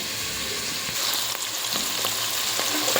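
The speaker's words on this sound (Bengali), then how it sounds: "পিঁয়াজ ভাজি করে দেখা দিলাম" Onions frying for prawn pulao, a steady close hiss of sizzling oil with light scattered crackles and faint stirring taps throughout, no voices.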